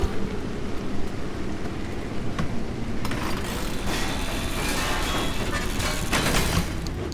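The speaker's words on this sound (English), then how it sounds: "it's raining, so what I'm going to do is gonna leave this here so we get the light" Steady rain from the video game Pacific Drive, a constant broadband hiss of drops that grows denser and brighter partway through, with occasional faint patters and no talk.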